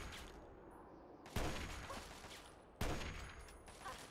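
Gunfire in the Fallout 3 video game during trench warfare: two loud, sharp shots a second and a half apart, each followed by a ringing, decaying tail over low background noise.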